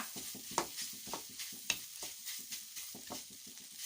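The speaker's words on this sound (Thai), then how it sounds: "เราก็รีบคนคลุกเคล้านะคะ ไม่งั้นเดี๋ยวจะไม่ทั่วกัน" A spatula stirs and tosses stir-fried preserved radish with egg in a hot pan, giving repeated quick scraping strokes over a soft continuous sizzle. The sound is close and fairly quiet, with no talk.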